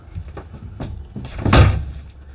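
A wardrobe door swings open in the bedroom of a Montana 3931FB fifth-wheel RV, giving a soft creak and a fuller bump near the end, close by and with no voices.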